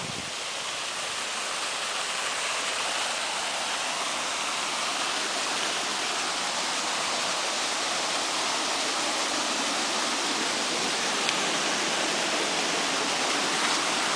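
Hot, murky, polluted water pours over a small dam across a road into a river, making a loud, steady, close rushing roar that runs without a break for the whole stretch.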